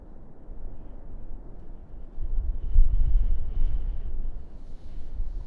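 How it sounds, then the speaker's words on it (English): Gusty wind buffets the microphone at the Kilauea volcano eruption, a low rumbling roar that swells into a stronger gust in the middle and then eases a little, with no voices. "Ooh, getting a little gusty."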